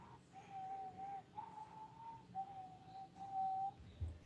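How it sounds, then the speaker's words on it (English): A soft, breathy whistle carries a simple tune in sustained, wavering notes with short breaks between them, quiet and close with almost nothing behind it. "I figured out this really kind of almost silent whistle technique"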